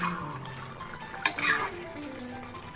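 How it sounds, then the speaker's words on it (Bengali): Chicken curry being stirred in a pot, wet thick scraping and bubbling up close, with a couple of louder clanks of the spoon against the pot and faint background talk. "আর একবার একটু মাংসটা নাড়াচাড়া করে নিচ্ছি"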